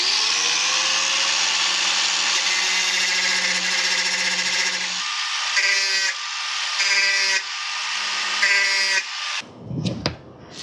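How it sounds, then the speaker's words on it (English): An angle grinder fitted with a cutting wheel works steel motorcycle crash bars on a Honda Transalp, a steady loud high whine that pulses as the wheel bites the metal, then breaks off into a few clattering knocks at the end. "Takes a bit longer than with a grinder wheel, but with a cutting wheel you get there too."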